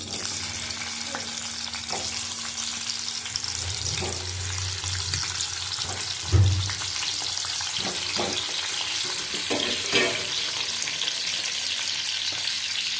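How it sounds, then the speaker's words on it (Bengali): Potatoes fry in hot oil, giving a steady, moderately loud sizzle throughout, with occasional stirring clatter and a few louder pops. "এদিকে তেল বসিয়ে দিচ্ছি আলুটা ভেজে নেবো আলু দিয়ে দিলাম"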